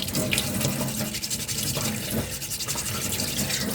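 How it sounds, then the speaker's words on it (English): Cosplay finger armour is hand-sanded with 240-grit sandpaper in rapid repetitive strokes, producing close, scratchy rasping bursts without pause. "it's just straight down to sanding now. And I'm not going to use a sharp grit. I'm going to use around this, I think, 240 grit."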